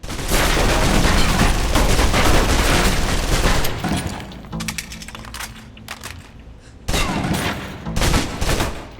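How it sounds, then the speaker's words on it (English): Submachine gun in the video game Alpha Protocol firing a full magazine in a long rapid burst, loud and sharp, followed by shorter bursts and scattered shots. "Now, let's move on to the submachine gun. Now let's empty the clip."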